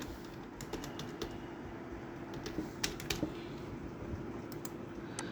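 Quiet, rapid tapping on a computer keyboard as text is entered into an Excel spreadsheet, a run of light irregular clicks over a faint steady background hum.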